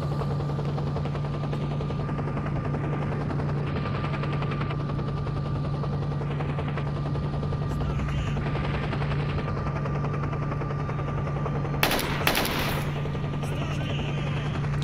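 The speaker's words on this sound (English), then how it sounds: "Maybe he's not a real helicopter, maybe he's a fake helicopter." A helicopter in the video game S.T.A.L.K.E.R. Shadow of Chernobyl drones steadily throughout with a constant low hum and rotor tone, broken near the end by a brief sharp burst of noise.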